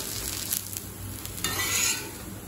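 Adai dosa sizzling and frying on a hot tawa, a steady close crackle that swells brighter toward the end, with faint scraping of a spatula.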